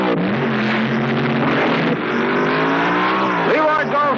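Drag racing cars launching off the line with spinning tires, a loud sustained engine roar and rising revving pitch over a full stretch, with a race commentator talking throughout.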